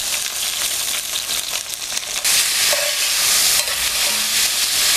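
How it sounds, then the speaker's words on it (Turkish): Peppers and tomatoes frying in a pot, a steady bright sizzle with occasional stirring scrapes, close and loud throughout with no talk. "Tenceremde biberim ve domatesim kavrulurken"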